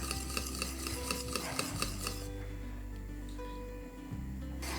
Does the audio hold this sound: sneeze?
no